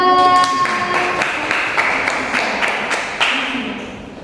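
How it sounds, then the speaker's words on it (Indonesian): Students in a school computer laboratory classroom give a short round of clapping, brisk and fairly close at first, then thinning and fading out within a few seconds. "tepuk tangan untuk kelompok 2"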